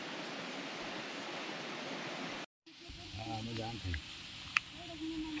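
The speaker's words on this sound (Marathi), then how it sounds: "तो धबधबा बघा दिवाळीमध्ये पूर्ण कोरडा होतो पण आता पाच महिने पाऊस पडतोय" A forest waterfall pours into a stream swollen by months of monsoon rain, a steady loud rush filling the first half before a cut to a fainter outdoor scene where people talk over quieter flowing water.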